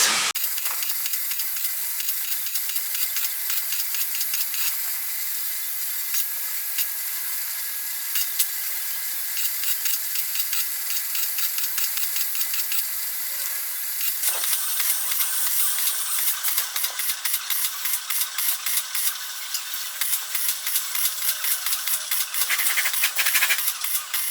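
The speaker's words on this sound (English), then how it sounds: "They are filling some pellets over there." Pellets being filled nearby in a workshop, giving a steady broad hiss that runs throughout and grows a bit louder and more crackly partway through, with no talking.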